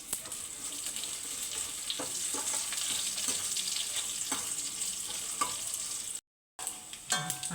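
Shallots and curry leaves fry in a pan for a mango pulissery, giving a steady close sizzle with scattered stirring scrapes and clicks, then a brief drop to silence before the frying resumes.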